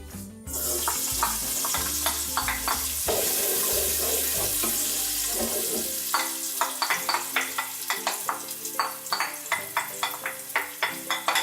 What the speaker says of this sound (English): We've preheated the oil and now it's time to add the onions and the pepper over it.